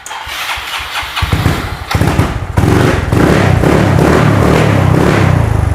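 A Yamaha Nouvo scooter engine, cold and just washed, cranks over and catches, sputtering at first, then settles into a steady, loud, close-up idle.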